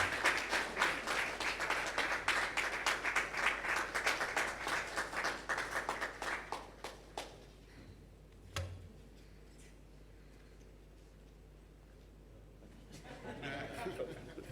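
An audience at a journalists' leadership conference applauds the President of Ghana, dense clapping that fades out after several seconds, followed by quiet room tone and a few light claps.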